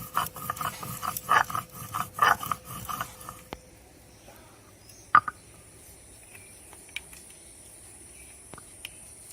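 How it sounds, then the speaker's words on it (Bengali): Green chillies ground on a stone slab, a few near rasping scrapes in uneven strokes over the first few seconds, then quiet outdoor background with a couple of sharp knocks and faint insect chirps. "আমি 4-5টা কাঁচা লঙ্কা বেটে নেব।"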